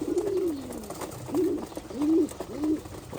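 Pigeons feeding at a tray give soft, low coos close by, one long coo followed by three shorter ones in a loose rhythm, over faint background noise.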